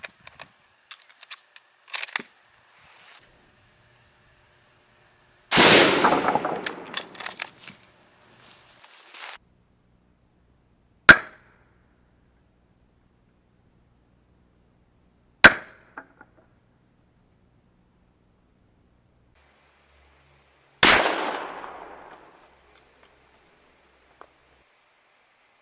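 Gunshots from a .223 rifle and an 8mm Mauser fired into a truck door, heard as several sharp, loud cracks spaced seconds apart. Some blasts ring out with a longer decaying tail, and faint handling noises fall between them.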